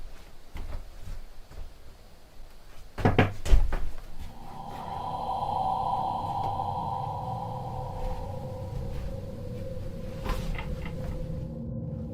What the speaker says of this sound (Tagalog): Maya-maya pa ay nagumpisa ng kumalaw ang mga pintuan ng cabinet na ito